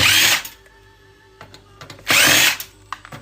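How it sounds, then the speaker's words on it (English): A power drill driving screws out of an old desktop computer case during e-waste scrapping: two loud bursts of whirring, each about half a second, separated by quiet clicks and small handling noises. "Go ahead and pop out as many of these screws as I can"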